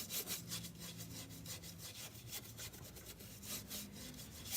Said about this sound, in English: Let me buff this.